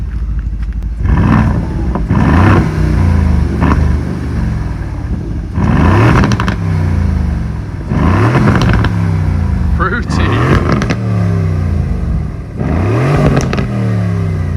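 Aston Martin Vantage engine giving a deep rumble, loud repeated revving bursts rising and falling several times, with voices talking over parts of it.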